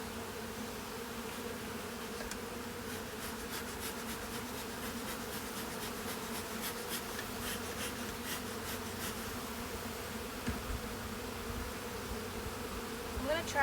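Honey bees buzzing steadily in and around deep hive boxes, a continuous close drone with a few fainter individual buzzes passing through.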